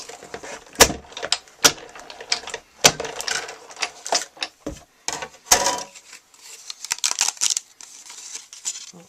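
Cardstock fed through a hand-cranked die-cutting machine for a stitched rectangle, giving a close series of irregular clicks, clunks and crunching rolls with quiet gaps between, without speech.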